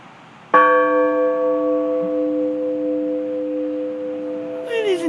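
A large church bell at an Albanian Orthodox church is struck once by a pulled rope, giving a loud clang that rings on as a long, slowly fading tone with a steady hum beneath it.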